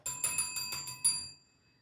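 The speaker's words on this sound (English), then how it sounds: "Where's that bell?" A small bicycle-style bell rings about six quick times in a rapid metallic ding sequence, bright and ringing, then fades out cleanly into silence.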